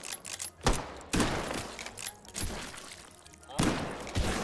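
Gunfire in the VR game Hot Dogs, Horseshoes & Hand Grenades: several sharp, close, loud shots fired in quick point-shooting bursts, with clattery mechanical noise between them.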